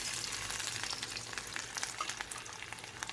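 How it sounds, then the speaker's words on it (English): Cumin seeds, then ginger garlic, fry in hot oil in a kadhai for kadhai paneer, a steady close sizzle with fine crackling spatters throughout, quiet and unbroken by voices. "we'll put some cumin seeds, and when they're about to splutter, we are going to put ginger garlic"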